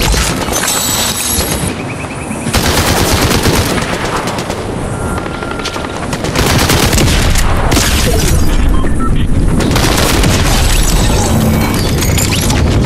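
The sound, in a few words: shotgun blast in the Fortnite video game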